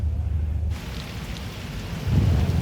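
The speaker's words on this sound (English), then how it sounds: "So it's raining." Steady rain falling outdoors with low rumbling in the background, fairly close and continuous, swelling louder near the end; no voices.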